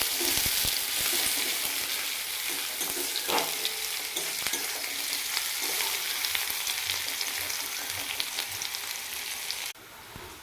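Onions fry in hot oil, giving a continuous close sizzle with stirring clatter and scraping from a spatula, steady and loud until it drops off abruptly near the end.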